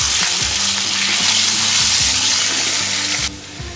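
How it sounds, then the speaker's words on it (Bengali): Potato strips fry in hot oil with salt, making a loud, close, constant sizzle with rhythmic scraping as they are stirred in the pan. The sizzle drops slightly near the end. "জাস্ট নুন দিয়ে আমি আলুটাকে ভালো করে ভেজে নেব।"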